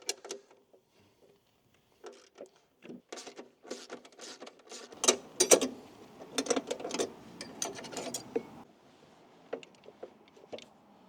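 Bolts being removed and a cutter cartridge slid out of a budget weed and grass cutting tool, a run of close, quiet metallic clicks, scrapes and rattles.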